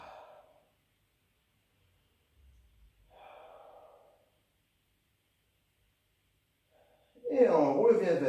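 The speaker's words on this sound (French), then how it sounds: "On inspire, on expire." Audible breaths during a Pilates flow exercise: a soft inhale near the start, another slower breath about three seconds in, then a loud, close exhale with some rustle at the end, with long quiet gaps between.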